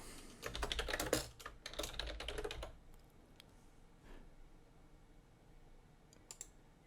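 A burst of fast computer-keyboard typing enters a name for a new gadget on a dashboard, the keys clattering densely for about two seconds, then thinning to a few scattered, quieter taps.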